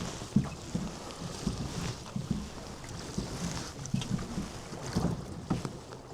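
Wind buffets a boat on a lake under a westerly breeze, with steady rushing and microphone gusts over soft rhythmic water lapping against the hull, close and moderately loud, no talking.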